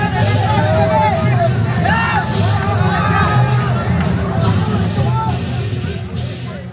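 Enormous crowd gathered at a Balinese Ngaben cremation ceremony, a loud dense babble of many voices with occasional shouts and whoops, continuous throughout, with traffic-like rumble beneath.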